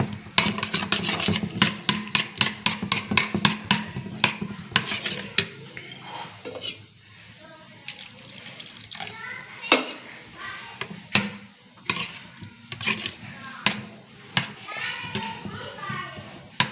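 A spoon whisking yogurt and chutney in a bowl for chana chaat, quick clinking scrapes against the bowl in an irregular rhythm, with a voice and children chattering in the background.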